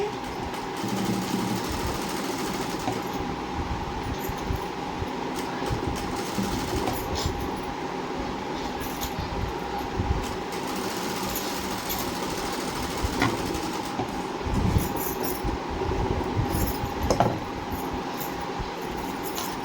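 A sewing machine runs steadily, stitching blouse lining fabric, with a continuous close mechanical whir and faint rattle throughout and small rises in speed near the end.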